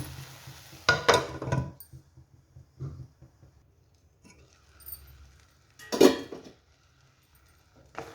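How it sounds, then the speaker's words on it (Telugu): A metal lid set back onto a cooking pot of simmering gongura greens, giving a few soft clinks and a clear clatter near the start and another after a pause, in an otherwise quiet kitchen. "ఒకసారి మళ్ళీ మూత పెట్టేస్తా"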